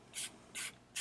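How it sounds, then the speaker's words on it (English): Fireworks craft spray mists onto a card in three quick, close hissing bursts, evenly spaced, with quiet gaps between them. "I'm just going to spray"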